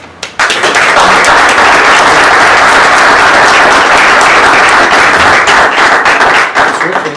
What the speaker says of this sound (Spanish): yo les ruego que le den un gran aplauso a nuestro autor porque se lo merece